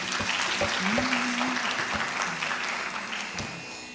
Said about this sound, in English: Give another round of applause for Nandana.